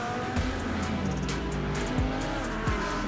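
Race cars in a racing video game roll off together on a formation lap at Laguna Seca behind a pace car, a dense steady engine drone with brief tire squeals and passing swells, loud and continuous.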